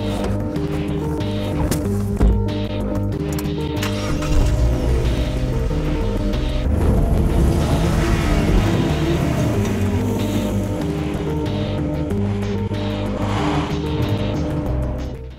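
A Mazda roadster sports car drives with a steady engine drone and passing road noise, the engine note rising and shifting through gears, loud and close throughout with no talking.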